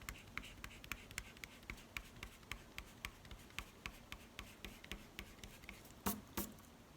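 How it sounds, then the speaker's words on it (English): An eraser rubs out a pencil line on paper in quick, regular scrubbing strokes, faint and close, with a couple of sharper scuffs near the end. "erase out the vertical line"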